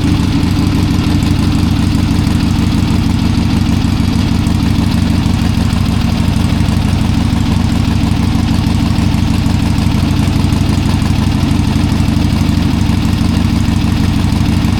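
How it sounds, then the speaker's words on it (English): A Harley-Davidson Ironhead XLCH engine idles after being kick started, a loud, close, steady low rumble with an uneven lumpy pulse that holds throughout, with no voices. "it started on the second kick"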